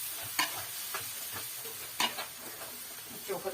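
Ground tomato paste frying with ginger and garlic in a pan, a soft continuous sizzle broken by several stirring scrapes.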